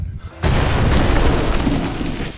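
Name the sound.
explosion blasting a bunker wall in an action film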